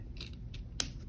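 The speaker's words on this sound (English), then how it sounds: "I'm going to cut the top one a half an inch overlap" Scissors snip through quilted fabric pieces for an oven mitt and potholder set, a few quick soft cuts ending in one sharper, louder snip, close and otherwise quiet.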